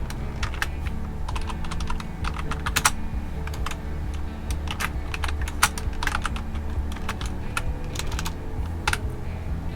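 Steady typing on a computer keyboard while entering an app name in Android Studio, rapid clustered key clicks running throughout at close range, with no talking.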